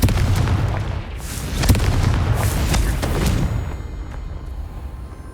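Blasting spell explosions from the Hogwarts Legacy video game: loud, dense booming bursts with a sharp crack near the start and repeated rumbling blasts that fade slightly toward the end.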